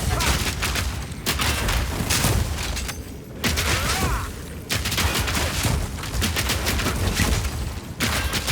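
Big explosions and rapid gunfire from the video game Path of Exile 2 pound continuously and loudly, with dense volleys broken by brief gaps.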